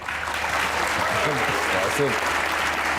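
Dense, steady applause from a studio audience welcomes a Pakistani poet, sustained and even throughout while a voice speaks over it.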